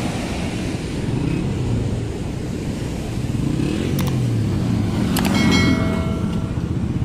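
Water rushes powerfully through the Rasul Barrage in Mandi Bahauddin, Punjab, Pakistan, a loud, steady roar with wind buffeting the microphone and a couple of brief high tones or whistles partway through.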